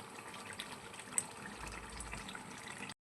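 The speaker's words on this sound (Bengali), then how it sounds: "এবার এর মধ্যে জল দিয়ে দেবো" Water is poured into a pot of cooking goat meat, a soft continuous pouring and splashing for about three seconds at low level with no voices.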